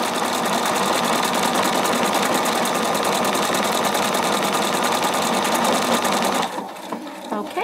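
A Brilliance 75Q sewing machine stitches fabric in a loud, steady, rapid run for several seconds, then stops abruptly, leaving a quieter tail.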